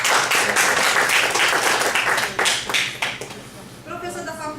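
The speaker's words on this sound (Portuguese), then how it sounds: "uma salva de palmas aqui" A university audience applauds to welcome a guest professor, with loud, dense clapping that gradually thins and tapers off before a voice begins speaking near the end.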